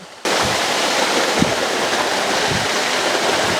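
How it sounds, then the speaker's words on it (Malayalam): A strong, rain-swollen flow of water pours at a natural bathing spot, cutting in abruptly and holding a loud, dense, unbroken rush close by. "ഇപ്പം മഴയായതുകൊണ്ട് നല്ല ഫോഴ്സ് വെള്ളം വരുന്നുണ്ട്"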